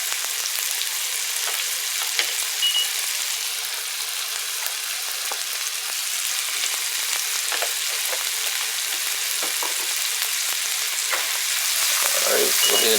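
Vegetable hash of diced sweet potato, butternut squash, onion and celery sizzles steadily in a hot pan, with scattered scraping clicks as it is stirred and the frying growing slightly louder toward the end.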